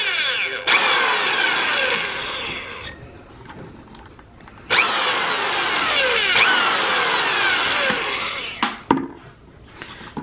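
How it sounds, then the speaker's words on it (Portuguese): Power drill boring a 6 mm hole in a motorcycle dashboard panel for a Honda Titan, with two loud, sustained whining bursts of the bit grinding through the material, close up, then short knocks and a brief pause. "E o bom de vocês ir furando devagarzinho assim, galera, é que não dá erro, entendeu?"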